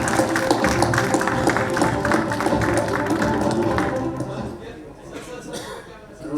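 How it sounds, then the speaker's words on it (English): Audience applause at an award felicitation during a summit, a steady dense clapping wash that holds for several seconds, then thins and fades toward the end. "Big round of applause, please."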